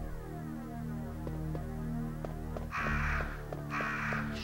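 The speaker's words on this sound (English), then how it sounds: "Shut up, you stupid crows." Crows caw in Resident Evil 1 over a low, throbbing ambient hum, with two harsh cries standing out in the second half of the clip and no talking.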